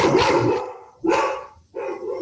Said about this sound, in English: That's my dog going crazy in the background.